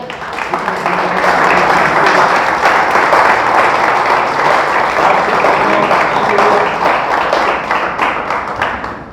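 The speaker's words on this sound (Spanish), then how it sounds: "Damos un aplauso al Señor." A church congregation applauds loudly and continuously, dense clapping filling the whole stretch without pause.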